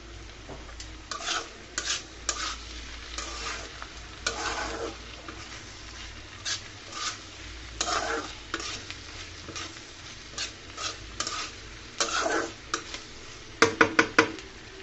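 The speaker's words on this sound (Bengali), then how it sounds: "দিয়ে দিলাম বেশ কিছু ধনেপাতা, দিয়ে আবারও নেড়ে চেড়ে দিলাম" Onion stalk and egg stir-fry with coriander leaves being stirred in a pan: irregular spatula scrapes over a low sizzle, closing with a quick run of sharp taps on the pan.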